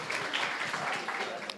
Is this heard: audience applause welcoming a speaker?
yes